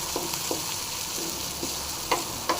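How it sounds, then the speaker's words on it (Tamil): Thuthuvalai berries fry in a pan for pickle, giving a constant close sizzle with occasional scrapes and taps as they are stirred. "நல்லா ஃப்ரை பண்ணிங்க."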